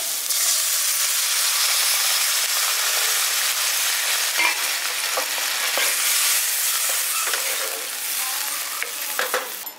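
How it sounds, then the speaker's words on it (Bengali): Hot spiced rice for polao meets poured water in a pan and answers with a loud, broad hiss and sizzle that eases slowly. Scattered scrapes and clinks come through near the end. "এবার এর মধ্যে আমি জল দিয়ে দিচ্ছি।"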